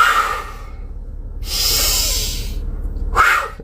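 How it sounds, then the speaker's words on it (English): A deep breath, heard as a long, loud, close inhale and exhale with a hissing rush through the nose and mouth, and no one speaking. "Deep breath."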